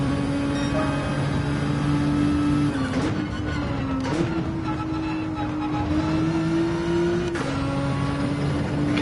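A race car engine in Gran Turismo 7 drones steadily at high revs, with brief dips and pitch shifts as gears change, loud and continuous, while a voice speaks faintly beneath it.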